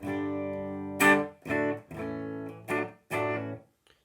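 A dry, clean electric guitar plays through the clean channel of a Boss Katana amp, with several distinct strummed chords that ring out and fade between strokes in an uneven rhythm. No one speaks.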